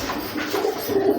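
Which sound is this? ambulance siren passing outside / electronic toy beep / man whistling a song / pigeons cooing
pigeons cooing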